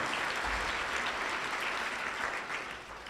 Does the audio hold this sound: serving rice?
no